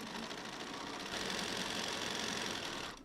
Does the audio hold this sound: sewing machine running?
yes